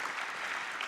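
Dense, continuous audience applause fills the room at a school environmental event, steady and fairly loud with no pauses.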